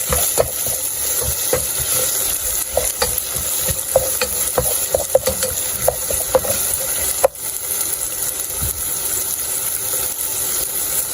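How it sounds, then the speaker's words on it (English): Ginger garlic sizzles in hot oil in a pan for a Sri Lankan okra curry, a constant close frying hiss broken by scraping stirs and spoon taps. "Now we can add the ginger garlic."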